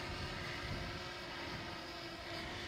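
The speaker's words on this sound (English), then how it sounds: "Just get the drone off and going." A DJI drone lifting off and flying, its steady buzzing motor and propeller whine heard continuously and fairly faint at close range, with no talk over it.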